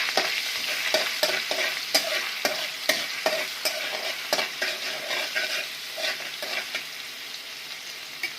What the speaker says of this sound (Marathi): आधी लसूण टाकून घ्यायचं आहे